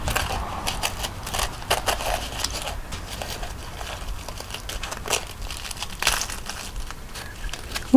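A knife cuts open puffed, warm baked s'mores pastries, giving close, crisp crunching and crackling in uneven bursts with no talk.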